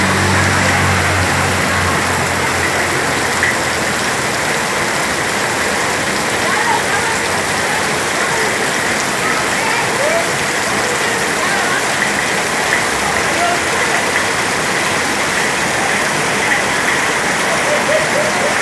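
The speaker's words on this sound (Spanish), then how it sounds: "Mira, Putin, cómo está cayendo el agua, güey." Heavy rain pours down during intense storms in Asunción Ixtaltepec, Oaxaca, a dense, steady, loud roar of water falling on surfaces that continues unbroken throughout.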